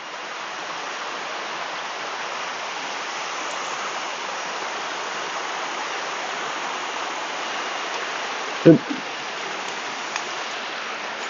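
Muddy, tea-coloured water pours at the lower tier of Tat Yai waterfall in Phetchabun, a constant even rush with one brief thump near the end.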